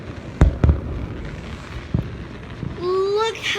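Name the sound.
fireworks going off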